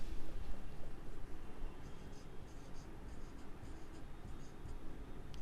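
Pen or pencil scratching figures onto paper during an accounting lesson, faint strokes over a steady room hum.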